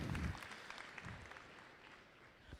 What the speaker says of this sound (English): Let's give them a huge round of applause for pulling this all together and taking care of us all.